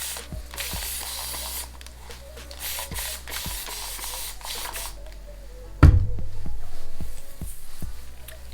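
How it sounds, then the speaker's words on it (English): Several quick spritzes from a spray bottle spraying water on hair, short soft hisses in a row, followed by a sharp knock and rustling handling noise. "so I'm going to spray a little bit of water."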